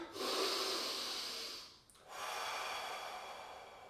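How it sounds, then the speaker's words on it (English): Two long, deep breaths, a strong airy inhale through the nose followed after a brief pause by a steady drawn-out exhale, close and fairly loud, with no talking, during a kettlebell workout. "I'm going to breathe really deep"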